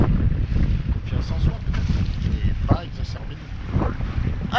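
Wind of 11 to 15 knots gusting across a sailboat at sea, constant roaring buffeting on the microphone with water wash and brief rustling bursts, loud and close throughout.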